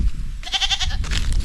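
Goat bleating on a farm: a loud, wavering nasal bleat, then a shorter second call, close by with outdoor background noise.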